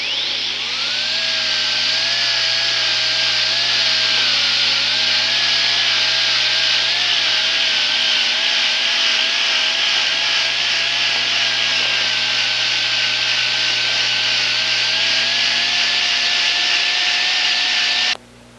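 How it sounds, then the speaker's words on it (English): A rotary handpiece spins a Robinson wheel against a gold dental restoration with Sure Shine polish, a loud steady high whine with a slightly wavering pitch that holds for most of the stretch before stopping abruptly, no talking. "completed my polishing using only the Sure Shine"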